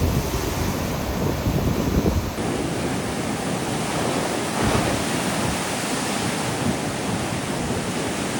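Loud surf pounds the Sokcho shoreline in a steady, dense wash of breaking waves, mixed with strong wind rumble on the microphone and no talking.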